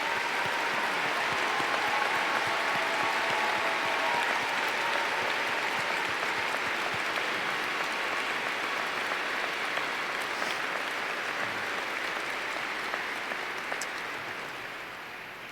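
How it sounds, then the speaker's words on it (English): A large commencement audience applauds military members and veterans, a sustained dense wash of clapping that holds steady before slowly fading out near the end. "Please join me in applause as we acknowledge these individuals"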